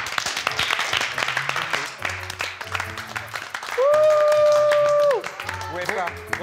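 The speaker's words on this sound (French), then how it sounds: "si on applaudissait Gonzague" Crowd applause greets Gonzague on a poker TV show, a burst of scattered clapping mixed with musical stings and a sustained tone partway through.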